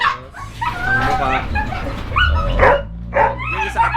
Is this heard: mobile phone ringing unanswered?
no